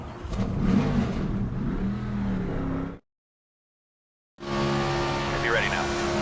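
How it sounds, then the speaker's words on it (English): Race car engines rev and roar in the NASCAR 25 video game, with a loud, sustained drone and a voice over it. After a sudden break of silence, the engines come back at full volume. "Drivers, start your engines!"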